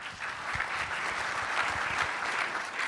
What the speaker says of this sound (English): give Harsh a round of applause